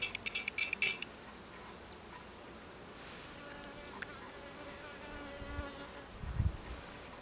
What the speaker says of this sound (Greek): Εδώ, πόσο πολύ κόκκινες είναι οι μέλισσες.